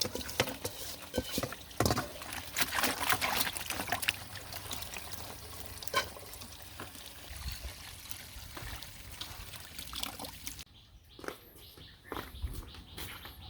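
Banana flowers are swished and rinsed in a bucket of water, giving close splashing, trickling and pouring sounds in uneven bursts, quieter near the end, with no speech.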